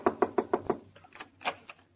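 Five quick, evenly spaced knocks on a wooden door, a radio drama sound effect, followed by a few softer, scattered taps; close and clear with no voices.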